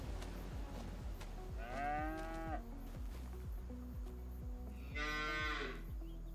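Cattle mooing in Farming Simulator 25, two long drawn-out moos heard over a steady rhythmic clicking and thudding game background, fairly quiet overall.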